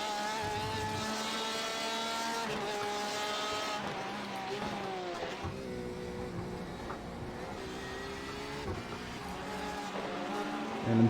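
An LMP prototype race car engine in the racing game iRacing at Sebring, a steady tonal engine whine rising and shifting in pitch as the car approaches, with a brief louder swell at the end.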